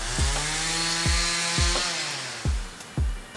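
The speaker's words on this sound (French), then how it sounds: "la tronçonneuse c'est pas idéal, je change de spot" A chainsaw buzzes nearby, its engine pulsing in repeated revs and cuts, a loud rasping drone throughout.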